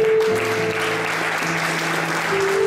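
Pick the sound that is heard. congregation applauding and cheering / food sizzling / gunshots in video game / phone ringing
congregation applauding and cheering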